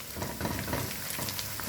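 Onions fry in a pan for stuffed vegetables with chicken, giving a soft, constant sizzle and crackle with faint stirring scrapes, fairly quiet, and no voices.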